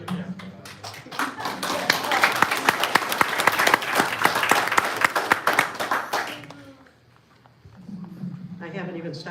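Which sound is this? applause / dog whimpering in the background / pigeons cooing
applause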